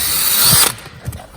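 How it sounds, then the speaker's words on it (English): A power drill bores a hole for fixing a GBS boot cover, a loud close whirring burst that stops abruptly and is followed by a couple of soft clicks. "So now that I drilled the hole, I'll get the fixing."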